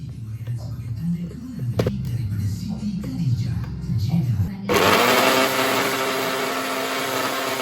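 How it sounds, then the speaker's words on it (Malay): Low murmuring voices and shuffling give way to a blender whirring on loudly and running steadily at high speed, blending onion for bergedil. "So blender."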